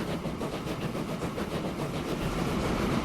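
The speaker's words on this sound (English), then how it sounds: "It's following the train in front very closely." Train running on rails in the Transport Fever tycoon game, heading uphill into a tunnel close behind another train: a steady, continuous rumble with a rhythmic clickety-clack of wheels, loud and unbroken throughout.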